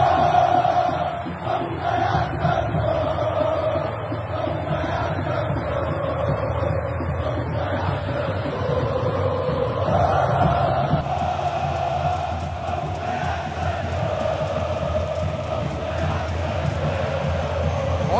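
Santos supporters fill Vila Belmiro stadium before a match against Corinthians, a dense, continuous roar of chanting and cheering crowd sustained throughout, loud and unbroken.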